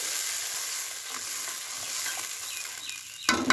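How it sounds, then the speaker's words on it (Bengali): White mustard paste frying with onions in a pan makes a steady, bright sizzle with faint stirring, then a sudden louder crackling burst near the end. "এবার সাদা সর্ষে বাটাটা দিয়ে দিচ্ছি। জল দেবো যাতে পুড়ে না যায়।"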